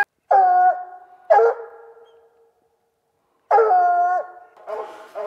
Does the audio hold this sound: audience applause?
no